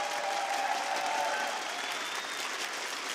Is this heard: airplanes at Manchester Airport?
no